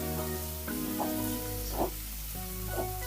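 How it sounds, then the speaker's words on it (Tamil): Onions and tomatoes sauté in a pan over a high flame, a steady close sizzle with a few soft stirring scrapes, no talk. "இது ரெண்டுமே நல்லா வதங்குற வரைக்கும் இதை வதக்கி விட்டுக்கலாம்."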